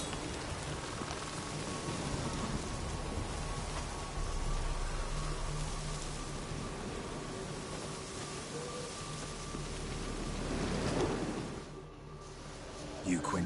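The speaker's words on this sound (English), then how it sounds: "Storm, damn it." Steady rain pours through a stormy scene in The Witcher 3, a dense hiss with a low rumbling undertone that swells briefly near the end before thinning out.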